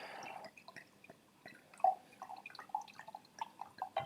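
Cider trickles and drips quietly into a glass, with small splashes and gurgles in an uneven rhythm, close and faint.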